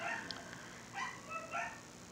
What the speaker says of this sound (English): So it is a dog barking.